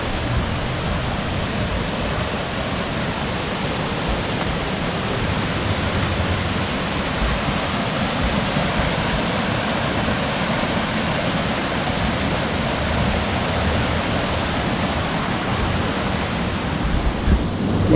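Swollen river water rushing steadily through Ruidoso, New Mexico after a flood, a dense, unbroken roar that stays loud and constant throughout with no voices.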